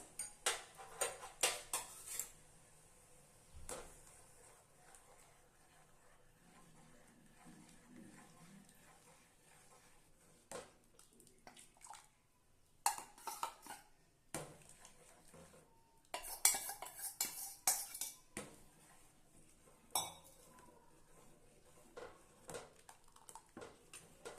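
Ragi flour batter stirred in a pot for ragi kali, with a utensil scraping and clinking against the metal in irregular bursts, loud near the start and again around the middle, with quieter gaps between.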